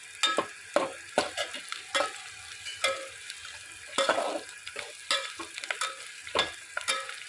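Curry leaves go into hot oil in a pot while cooking spiced rice, giving a soft crackling sizzle broken by repeated scraping stirs of a spoon, close and moderately quiet, with no talking.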